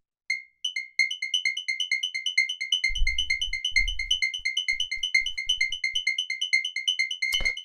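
High-pitched synth lead from a hypnotic hard techno track plays rapid, evenly repeating bright stabs throughout, loud and close, with a few deep low thumps briefly entering partway through.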